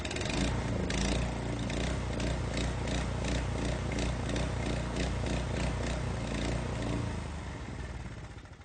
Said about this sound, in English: if you ever had an engine problem that sounds something like this